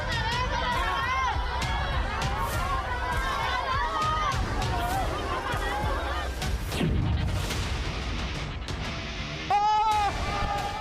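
An angry crowd shouts slogans in a street protest in Hubei, a dense loud mass of voices chanting throughout with a few sharper shouts standing out near the end.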